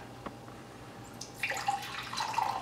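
Lukewarm water for Greek cheese pie dough pours in a soft, close stream that starts partway through and runs under faint room sound.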